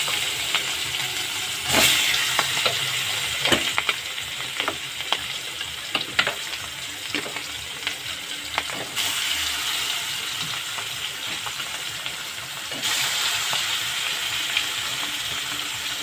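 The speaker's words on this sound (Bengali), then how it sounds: "এবার মাছটা আমি ভেজে নেব।" Pangas fish pieces fry in a wok with only a little oil, giving a steady close sizzle for the whole stretch with scattered sharp crackles and pops and a few brief brighter bursts.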